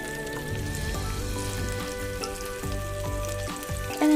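Green onions sizzling in a generous amount of melted butter for fried rice, a continuous crackling fry with light popping and a faint musical tone running underneath.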